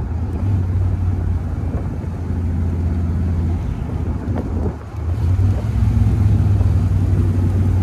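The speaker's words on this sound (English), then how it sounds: "I'm only able to get it up to about 50 out here, but the car feels very good." A 1965 Shelby Cobra replica cruises at about 50 mph in fourth or fifth gear, a steady low engine drone mixed with heavy wind rush that stays loud and continuous, with a brief dip near the middle.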